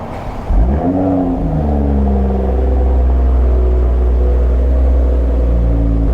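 A 2021 Toyota GR Supra with an AWE exhaust revving. A sharp blip rises and then settles into a loud, deep, steady droning idle close by, with no talking.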